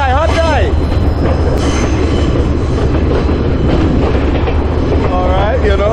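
A passenger train in Sri Lanka rolls along the rails with a loud, constant rumble and rattle, and wheels squeal at the start and end. A voice speaks faintly beneath the noise.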